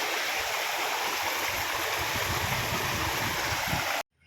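A river in the Girnar hills flows steadily at a crossing point, a loud, continuous rushing of water close by that holds without a break until it cuts off abruptly near the end.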